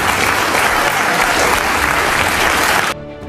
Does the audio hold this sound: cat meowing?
no